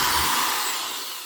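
A power drill bores out a rivet hole on an RV, a loud continuous whirring grind that slowly tapers off in level over a little more than a second, with no talking.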